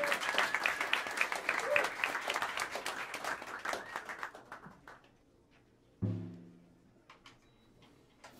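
Audience applause at a live jazz club gig, a dense round of clapping that swells for several seconds, then thins out into scattered claps, followed by a single close knock and quieter sounds.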